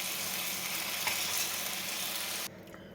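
Okra pieces frying in oil with coriander and chili spice, a dense steady sizzle up close that drops sharply near the end as the pan quiets.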